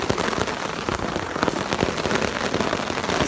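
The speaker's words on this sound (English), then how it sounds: "apparently I can sit under this wee little tarp in the pouring rain and stay dry" Heavy rain pouring onto a small tarp in the Canadian wilderness, a dense, loud, continuous patter of drops close overhead with no other sounds.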